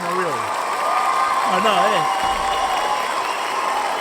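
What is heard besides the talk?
audience applause for a comedian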